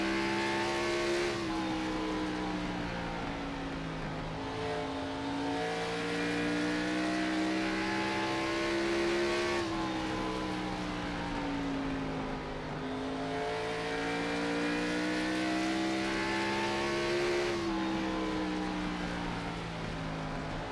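Xfinity Series race car engines drone around Bristol's short oval in iRacing, a loud sustained harmonic whine that rises and falls with each lap's throttle and braking, steady and close throughout.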